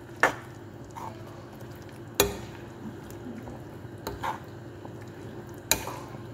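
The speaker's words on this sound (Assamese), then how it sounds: "এতিয়া মই লৰাই দিম।" Chopped potatoes for a mushroom curry are stirred in a pan, four sharp spoon-against-metal knocks spaced a couple of seconds apart over a soft, quiet sizzle.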